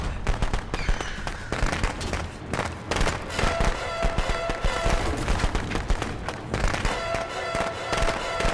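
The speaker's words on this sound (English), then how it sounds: "Firecrackers." Firecrackers going off in a GTA video game: a rapid, dense crackle of many sharp pops, loud and continuous with irregular bursts, almost no talk over it.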